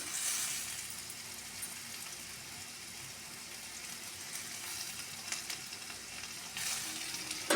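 Ginger sizzles in hot oil in a partly covered pan while a lentil-fritter curry is cooked, giving a steady, close frying hiss with small crackles throughout and no talking.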